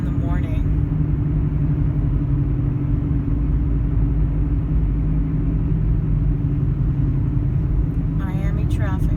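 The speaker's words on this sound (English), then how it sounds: "Miami traffic." Miami road traffic heard as a constant, loud low rumble of moving vehicles, with brief voices at the very start and end.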